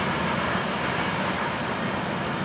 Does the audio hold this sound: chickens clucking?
no